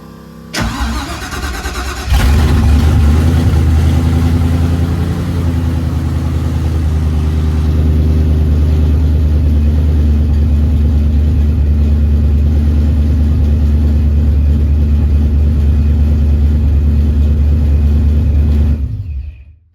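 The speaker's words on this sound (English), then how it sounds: "And then we're gonna see if she'll crank and run" A car engine cranks briefly, catches and settles into a loud, steady low idle, running close by without pause until it cuts off at the end.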